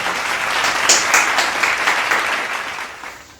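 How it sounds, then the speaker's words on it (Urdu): A group of children claps for Haseeb Pasha, a close, lively round of applause that swells quickly and then gradually fades out over a few seconds. "حسیب پاشا کے لیے تالیاں بجائیں سارے بچے"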